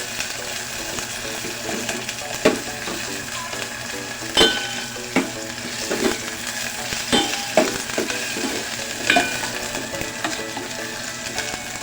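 Garlic, long chili, onion and onion chives frying in a pan, a continuous crisp sizzle broken by periodic scrapes and clacks of stirring, close and fairly loud with no talking.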